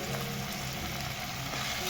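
Tomato with salt and turmeric sautéing in a pan, a steady, dense sizzle that holds at an even level for the whole moment with no voices.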